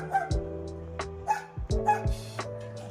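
A neighbour's dog, a mother dog, gives a few short close barks mixed with whining whimpers in a backyard garden, in irregular bursts with no talk.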